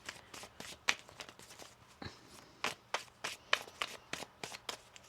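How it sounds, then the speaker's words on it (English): Crisp, papery riffles and snaps of tarot cards being shuffled, quick bursts repeating for several seconds, close up with no talking. "One more shuffle here."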